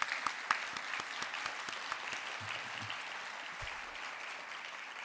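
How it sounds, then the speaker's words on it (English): Applause from a conference breakfast audience honouring the board, many people clapping steadily at moderate level for about five seconds, a few louder claps near the start, with a faint low voice briefly beneath. "let me just give them a round of applause"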